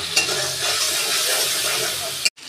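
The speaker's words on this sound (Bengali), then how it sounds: "ওই তেলে আমি চিংড়ি মাছটা ভেজে নেব" Oil sizzles steadily as prawns fry in a pan, with a brief clatter near the end.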